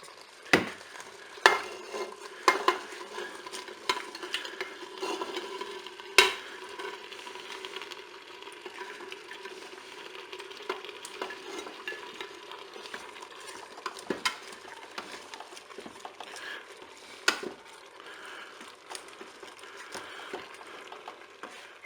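Carrots are stirred into duck with honey in a Cookeo pot, with sharp utensil clacks and scrapes against the pot over a soft, steady sizzle, close by.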